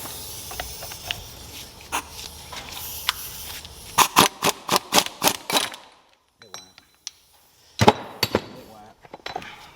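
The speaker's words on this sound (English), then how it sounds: "We're going to see if this gear puller will take this off." Metal tool strikes or ratchets on a gear puller pulling a part off a Hydro Gear ZT-5400 transaxle, a rapid series of sharp close clacks followed by a few isolated knocks with hiss between them.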